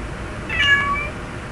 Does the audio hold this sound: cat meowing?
yes